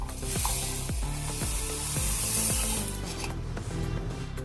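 Mustard seeds grinding in a mixer grinder jar, a loud continuous gritty whirring rasp with repeated rhythmic thumps as the seeds tumble, close and steady throughout with no voices.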